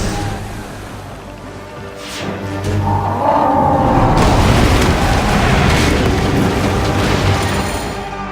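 Ship cannons booming from a war galley in Assassin's Creed Origins, a deep rumbling roar swelling loud and sustained over a churning low background, with no voices.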